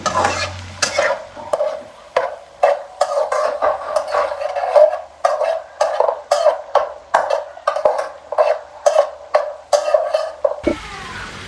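Rhythmic stirring and scraping of onions in a pan over a steady hiss of frying in hot oil, with repeated utensil strokes close by and no talking.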